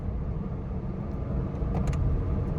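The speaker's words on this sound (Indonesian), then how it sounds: "Ini ya di RPM 3000-an lah buat nanjak di daerah Semarang ini" A Honda Brio climbs a hill near Semarang with its engine held around 3000 rpm, giving a steady, muffled low drone of engine and road noise inside the cabin, with no one talking.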